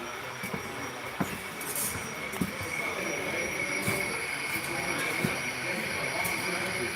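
A ScaleTrains model gas turbine electric locomotive runs along its track with a steady whirring hum, a high whine and occasional clicks from the wheels, heard under a busy background of chatter at an open house.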